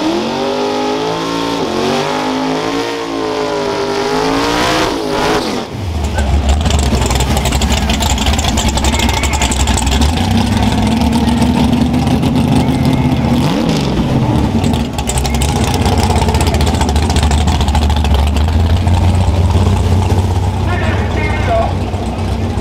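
Drag race cars rev loudly at a Saturday night grudge race, one engine sweeping up and down in pitch before a deeper, sustained roar takes over with rising revs, with a voice audible over the engines.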